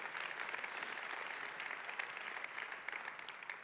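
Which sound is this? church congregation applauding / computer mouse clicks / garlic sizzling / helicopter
church congregation applauding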